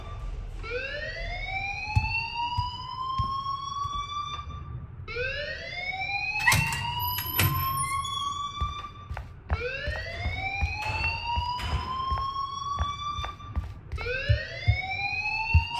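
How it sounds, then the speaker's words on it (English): Rising, wailing electronic alarm from the Life is Strange video game, sounding in repeated sweeping cycles of about four seconds each, loud and steady, with faint background clatter and no talk. "please turn off that alarm since that's your job"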